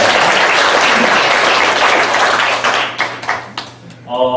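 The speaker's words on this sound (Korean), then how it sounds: "박수로 서로" A church congregation claps together during a Sunday service, a dense loud wave of applause that thins and breaks into scattered claps and light taps before fading out.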